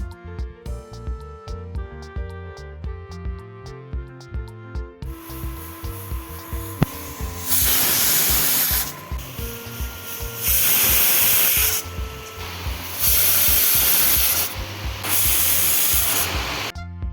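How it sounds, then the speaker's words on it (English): A pressure cooker cooking potatoes lets out loud, forceful hissing bursts of steam in regular pulses, following a stretch of background music, with no talk. "Cover the pressure cooker with the lid and cook until the potatoes become soft."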